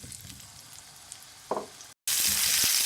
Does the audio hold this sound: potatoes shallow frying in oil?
yes